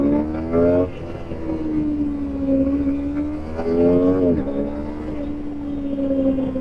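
An automatic sport motorcycle engine revving toward redline, a close, loud, buzzing drone whose pitch climbs, dips and climbs again in steady sweeps.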